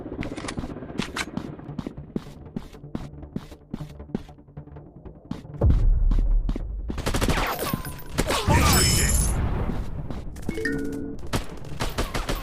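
Gunfire in a first-person shooter game: a run of sharp, rapid single shots, then a louder, denser burst of sustained fire with crashing effects, close and punchy, followed by a quieter stretch of clicks and shots.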